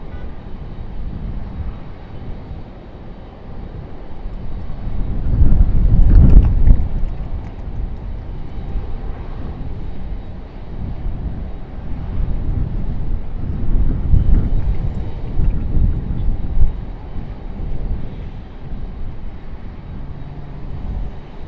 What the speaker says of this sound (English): Got a little exec jet making its way in over here.